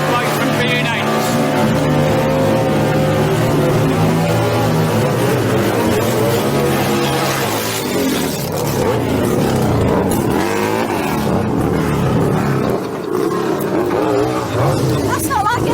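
Drag bikes at a rally roar and rev hard, a loud, continuous engine blare that rises and falls in pitch as they accelerate, with people talking over the noise.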